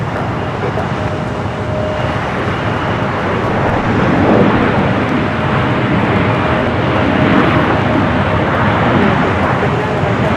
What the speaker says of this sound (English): 737-900ER, the United flight heading to Vegas just now